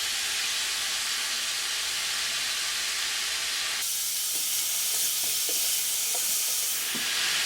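Dill stirred into frying daikon radish gives a steady sizzling hiss. The hiss shifts midway, then a run of soft scraping and clicking stirs sounds over the continuing sizzle.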